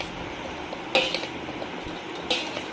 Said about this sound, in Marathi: आता तेल मिसळून घेते